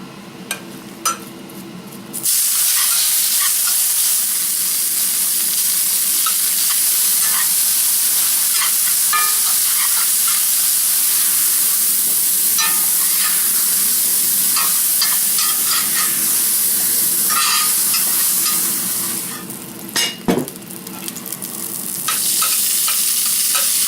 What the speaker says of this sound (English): let's cook some meat